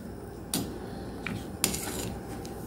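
Homemade Jamaican sorrel drink being stirred in a pot, with a few soft, sparse scrapes and knocks of a spoon against the pot, quiet and close, with no talking.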